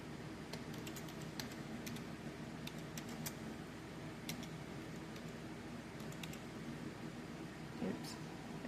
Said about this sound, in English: I like to type kind of the title to be my alt text in the title